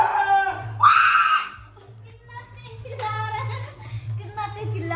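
Indian cricket fans celebrating India's semi-final win over New Zealand shout and cheer outdoors in loud bursts of overlapping voices, with a steady low hum underneath.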